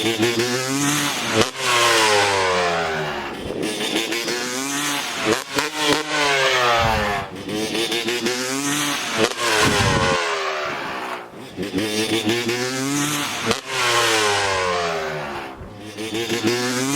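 Motocross dirt bike engine running on a cold practice day, revving hard in repeated bursts with pitch sweeping up and down, loud and close throughout.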